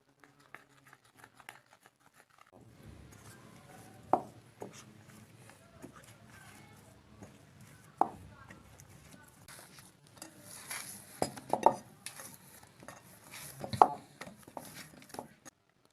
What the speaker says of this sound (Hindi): अब इसमें 1 कप मैदा डाल लेंगे। इसको अच्छी तरह से मिक्स कर लेंगे।